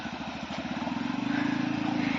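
Motorcycle engine near a waterfall trail, a steady low rhythmic putter that grows a little louder and fuller as it runs, with no talking.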